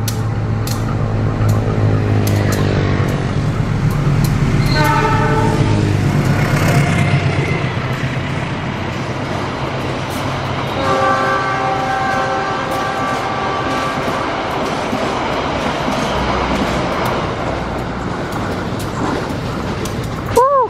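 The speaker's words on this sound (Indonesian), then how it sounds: "Kereta api Argo Wilis sudah melesat" The Argo Wilis express train speeds past at close range with a loud, continuous roar, steel wheels rumbling and clattering, and a horn-like tone sounding partway through before the noise fades.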